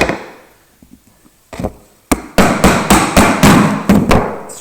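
Chisel struck with a mallet, chopping a mortise into the wood of a footstool: a few faint taps, then a run of about ten loud, sharp blows in steady rhythm, close by.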